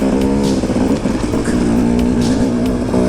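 A dirt bike engine droning loud and steady while riding up Flag Mountain in Colorado toward the summit in clouds, with a buzzing tone that shifts slightly in pitch as throttle changes.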